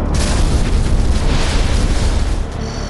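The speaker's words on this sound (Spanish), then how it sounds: "Pensé que seguramente había estallado un motor" A DC-10 airliner engine exploding in flight, a loud sustained roaring blast with deep rumble that holds for about three seconds before easing.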